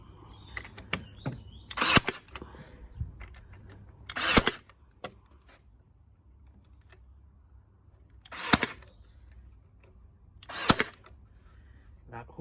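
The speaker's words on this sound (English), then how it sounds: "what better than to use a nail gun?" A nail gun fires into boards in four sharp, separate cracks spaced a couple of seconds apart, with small knocks and handling noise between them in a quiet room.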